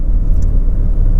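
A 1988 Pontiac Fiero's engine drones steadily from inside the cabin, a low continuous rumble with no clear rise in revs over the short stretch.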